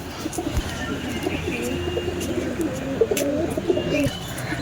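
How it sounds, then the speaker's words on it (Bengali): A pair of Chini Kaldom pigeons coo continuously and near at hand, with low throaty rolls repeating across the stretch and a few faint chirps mixed in. "এবার এটা দেখাচ্ছি চিনি কালদম পায়রা ঠিক আছে এটা ওর জোড়া"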